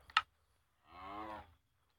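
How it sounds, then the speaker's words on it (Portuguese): Mooshroom cows from the mushroom biome in Minecraft Pocket Edition give one short, low digital moo after a brief click, alone in otherwise quiet game audio. "Tem vacas cogumelos que encontram no bioma de cogumelo."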